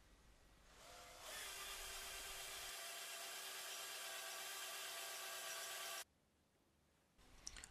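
A loud, steady whine of a barrel trimming cutter in an electric drill grinding into a hand-held pen blank for several seconds, starting abruptly and stopping just as suddenly.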